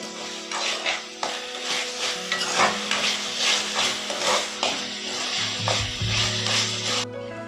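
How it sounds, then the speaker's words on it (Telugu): Marinated chicken for Mughlai chicken handi cooks on a high flame while being stirred, producing rhythmic, close scraping and rubbing strokes over a soft background sizzle. "హై ఫ్లేమ్ లో చికెన్ ని ఉడికించుకున్నానండి"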